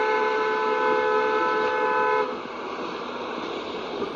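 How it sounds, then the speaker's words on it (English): A car horn sounds on a residential street, one sustained, steady blast lasting about two seconds before cutting off, leaving low outdoor street ambience. "I think that's someone's Uber getting honked at."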